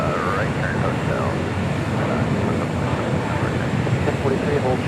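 A Condor Airbus A330 jet airliner at LAX gives off a steady, broadband engine roar that holds at an even loudness throughout. Faint radio chatter sits underneath it.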